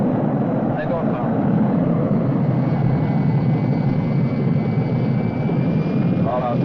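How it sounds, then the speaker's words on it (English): Airplane engines at takeoff power during the takeoff roll give a loud, steady droning roar that holds evenly throughout, heard from close by. "Okay, we're rolling. Takeoff power."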